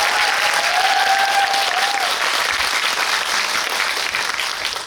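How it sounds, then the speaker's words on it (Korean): Sustained applause from a cinema audience at a film Q&A event for the movie Wild Thing, loud and dense throughout, with a brief whistle-like tone early on. "다시 한번 세 분께 박수"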